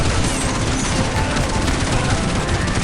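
Gold MG3 machine gun fires in Counter-Strike Online as one dense, continuous burst of gunfire at steady loud level, crackling and booming with no pause and no speech.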